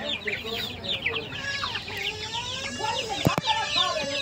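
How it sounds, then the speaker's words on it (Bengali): Native Bangladeshi country chickens cluck and chatter steadily at close range in a farmyard, with a rooster among the fowl and one sharp knock partway through. "আর এই মুরগিগুলো দেশি মুরগি"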